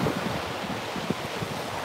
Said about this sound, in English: I love the sound of the waves. And they're a little bit louder than normal today